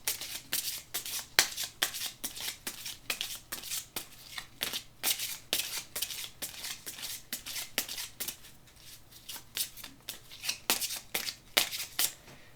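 Tarot cards being shuffled by hand, a steady run of crisp, close riffling flicks repeating in quick bursts for over ten seconds, quiet and without speech.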